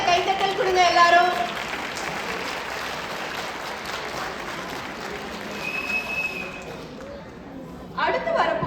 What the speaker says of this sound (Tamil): ஒரு பலத்த கைத்தட்டல் கொடுங்க எல்லாரும்.